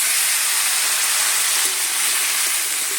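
Cucumber, potato and bitter gourd fry with small fish for a shukto, giving a loud, continuous sizzling hiss that stays even throughout, with faint stirring taps and no voices.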